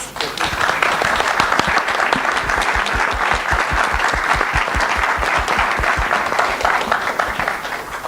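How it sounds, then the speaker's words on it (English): A conference audience gives sustained applause for a panel on the future of Linux applications, thick, continuous clapping from a large room that stays loud and even throughout. "let's give them a round of applause"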